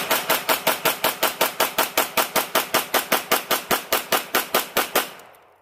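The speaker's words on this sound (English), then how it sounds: "I'm going to do a lot of shooting, probably a few mag dumps." Close, loud rapid gunfire: about twenty-five evenly spaced shots crack in quick succession during a magazine dump, ending with a fading echo.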